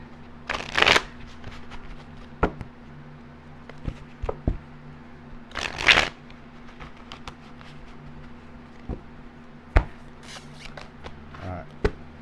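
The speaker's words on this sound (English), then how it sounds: "Shuffle." A deck of tarot cards riffles in two loud shuffles, with softer card taps and handling between them.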